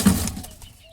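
A record-breaking racing pigeon beats its wings close by in a short, loud burst of flapping that fades quickly, with no voices.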